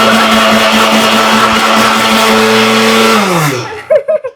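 A kitchen mixer grinder whirs loudly and steadily with a strong motor hum, then winds down and stops near the end, followed by brief clattering sounds.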